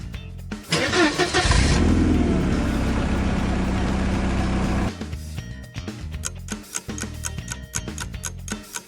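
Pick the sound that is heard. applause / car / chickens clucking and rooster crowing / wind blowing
car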